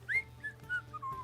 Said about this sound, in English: I slowly remove my feet while whistling.